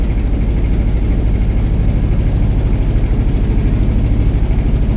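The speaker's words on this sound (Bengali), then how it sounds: "ট্রলার একের পর এক আসতেছে।" A trawler boat's engine runs steadily on the river between a broken bridge and Kashimpur market, a loud, close, unbroken low droning rumble with an even chugging pulse and no voices.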